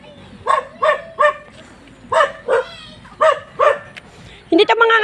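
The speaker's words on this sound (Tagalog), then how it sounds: "Oh, may aso pang malaki." A big dog barks repeatedly in evenly spaced, fairly close woofs, about eight in all, with a quiet outdoor background between barks.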